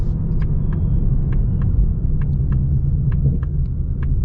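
The V8 of a 2025 Ford Mustang Dark Horse puts out a deep, continuous low rumble, loud and close. It stays steady throughout, with faint clicking ticks on top and no talking.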